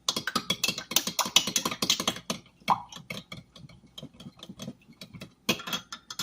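A sour cream mixture is whisked in a bowl, a rapid string of sharp clicking strokes that stop briefly near the middle and then resume. The sound is close and alone.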